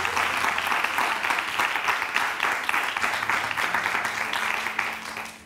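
An audience applauds a man with steady, dense clapping that fills the whole stretch, fairly loud, with a faint voice murmuring underneath.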